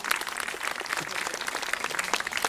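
An audience at an outdoor bird-of-prey show applauds a barn owl named Blanche, with dense, steady clapping from a crowd held up for the full stretch and no voices.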